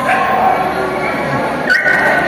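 Several dogs bark, yip and whimper at a free municipal rabies vaccination event in Bacoor City, a busy, steady mix of canine calls with people talking throughout.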